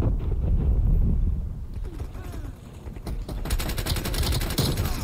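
Rapid, dense gunfire from Call of Duty: Cold War during a Domination match, loud bursts of automatic fire with mechanical clacks running through most of the stretch, no talk.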